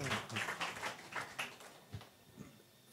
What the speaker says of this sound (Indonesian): Tepuk tangan buat narasumber kita semua boleh?